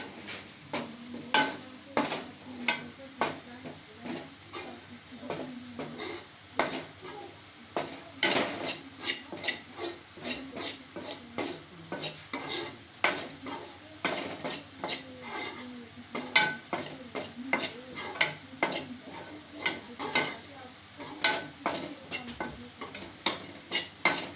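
A spoon scrapes and taps against a pan as besan is stirred and roasted over medium heat, making a steady, rhythmic run of soft clinks and scrapes that goes on at a fairly quiet level.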